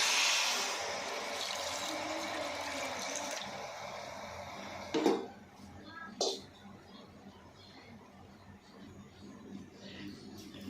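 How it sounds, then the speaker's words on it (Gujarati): Water poured into a kadai of sugar to make syrup for raw mango murabba: a steady rushing pour for several seconds, then two hollow knocks of the vessel and quieter settling. "એ ખાંડ ડૂબે એટલું એમાં પાણી ઉમેરીશું"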